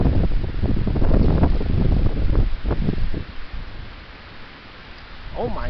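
Strong wind blowing hard outdoors, buffeting the microphone with loud rumbling gusts that ease toward the end.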